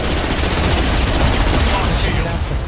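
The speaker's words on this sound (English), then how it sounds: "Friendly fire, Shepard" Intense Mass Effect 2 video game gunfire, a dense, continuous burst of automatic shots and blasts, loud and close, with speech mixed in.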